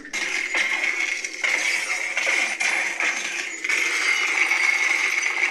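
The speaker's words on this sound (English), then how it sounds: "the ice breaking noises" A Sub-Zero sound font in a lightsaber crackles and shatters like breaking ice, with a dense sizzling hum underneath and repeated crunchy, glassy bursts, loud and continuous without talk.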